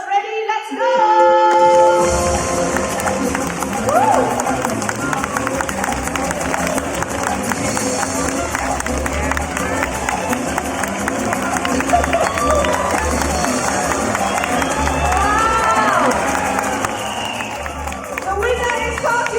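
An audience at a bird show featuring a green-winged macaw claps and cheers in a sustained, lively burst, with a whoop and crowd noise over the applause.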